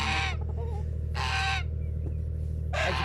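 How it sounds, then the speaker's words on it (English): A gander in a chicken pen gives three loud, harsh honking bursts close by, spaced about a second apart over a constant low hum, with no talking. "the one that's making all the noise is a gander over there"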